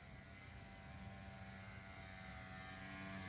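An XK K110S Falcon micro RC helicopter spins in idle up mode, giving a steady, continuous rotor and motor whine with a high-pitched electric hum. It is heard fairly close and without any talk.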